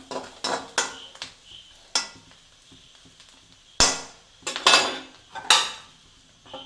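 A metal spoon scrapes and knocks against a pan while clam meat fry is stirred, giving scattered sharp clinks and clatters in bursts with quiet gaps between, close by and with no voices.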